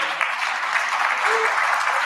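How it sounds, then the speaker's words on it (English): An audience applauds panelists at the close of a conference session on European Jewry, a steady, dense round of clapping that carries on evenly from start to finish with no voices over it. "I would like to give them a big applause"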